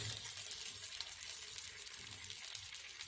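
An egg and cheese sandwich frying in a pan while browning on both sides gives off a faint, even sizzle that hisses steadily without a break.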